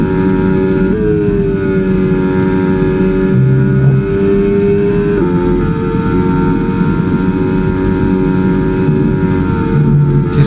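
A Williams FW47 Formula 1 car in the F1 25 racing game holds a loud, continuous high-pitched engine whine, its pitch stepping and shifting with gear changes throughout, with no voices.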